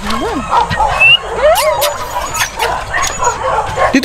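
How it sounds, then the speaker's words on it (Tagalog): Dogs chasing each other, with yips, whimpers and barks in quick irregular bursts, close and fairly loud, over a busy outdoor background with voices. "Naghahabulan ang mga aso."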